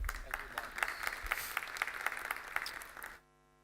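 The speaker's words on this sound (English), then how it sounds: "Please welcome him on stage with a warm round of applause." An audience applauds a speaker coming on stage at a clinical dental conference session, a dense run of hand claps that ends abruptly.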